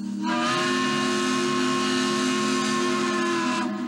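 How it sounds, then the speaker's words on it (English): An Eureka Springs Railroad steam locomotive near the White River Bridge at Beaver, Arkansas, around the 1980s, sounds one long, loud, close whistle blast over a hiss of steam. "The Eureka Springs Railroad crossing the White River Bridge at Beaver, Arkansas."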